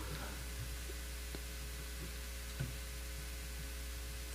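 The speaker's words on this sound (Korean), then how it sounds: "여기에 지금 이렇게 이런 소리는 에어컨 소리입니다" A low, constant electrical hum from an air conditioner with a faint hiss beneath it, steady throughout, with a couple of soft ticks.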